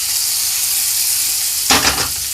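A gourmet burger patty sizzles in a good-quality frying pan, giving a loud continuous hiss, with a brief burst of stirring or scraping near the end.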